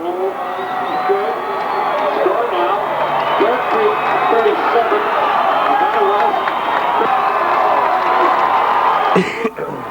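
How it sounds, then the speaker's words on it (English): A large crowd of fans roars and cheers continuously at a distance at a football game, a dense wash of voices with scattered shouts and whoops. "You can hear all the fans cheering on both sides"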